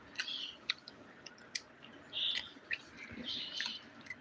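Someone eating pathiri with egg roast, close soft chewing and bites in irregular bursts, with faint chirps and small clicks around them.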